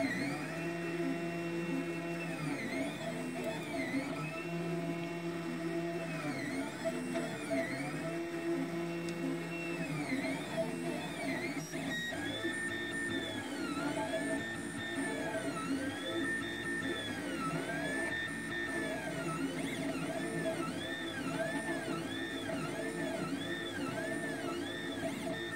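3D printer laying down its first layers, with steady whirring stepper motors sweeping through rising and falling tones in repeated motion patterns and a constant fan hum underneath.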